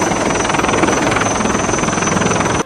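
Indian Coast Guard helicopter flying out at sea at night on a rescue airlift, a loud, steady, close rotor and engine roar with rapid pulsing chop that fills the whole moment without pause.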